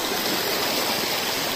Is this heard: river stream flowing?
yes